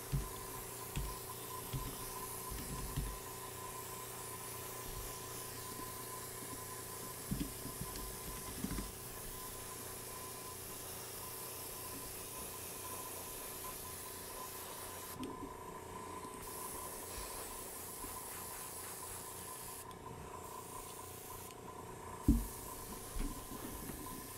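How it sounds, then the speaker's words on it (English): An airbrush sprays paint steadily across the whole stretch, a continuous close hiss with a few brief pauses in the spray, worked over the upper body of a figure. "So I'm not pulling all the way back on my airbrush."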